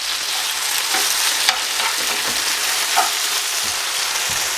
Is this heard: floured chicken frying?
yes